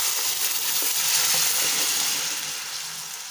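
Boiled rajma is stirred into a simmering curry gravy, producing a thick close sizzle with wet squelching spoon strokes that gradually quiets toward the end, with no talking.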